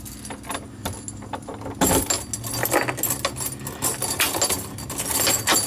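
Keys jangle and clink against a new mortise door lock on a house's front door, with several sharp metallic rattles and clicks as the key is worked, close and fairly loud.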